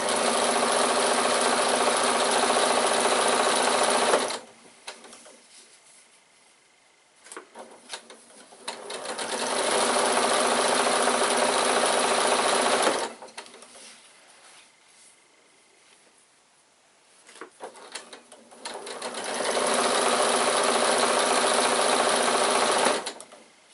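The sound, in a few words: sewing machine stitching piping cord onto bag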